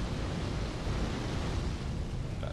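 An enemy's fire attack in the video game Dark Souls 3, a dense, roaring whoosh of flame that stays steady and fairly loud for the whole short stretch, with no voices.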